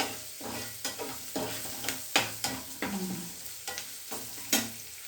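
Turmeric being stirred into a sizzling pan of frying spices, a ladle scraping and knocking against the metal in a loose rhythm of about a dozen strokes over a soft, continuous hiss.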